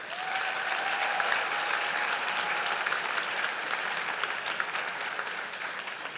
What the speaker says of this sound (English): That brings us to the end of Dietetics graduates. Another round of applause, please.